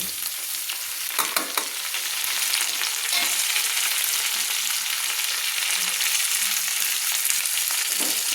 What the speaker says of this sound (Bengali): আমি হালকা হালকা করে একটু পেঁয়াজগুলোকে আলুর সঙ্গে লাল লাল করে হালকা লাল লাল করে আমি ভেজে নেব